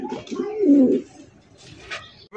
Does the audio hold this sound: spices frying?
no